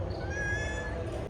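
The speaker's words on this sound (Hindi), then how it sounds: "ये है मेरी बिल्ली चिंकी।" A pet cat meows in one drawn-out, close call lasting over a second, clear and alone with no talk over it.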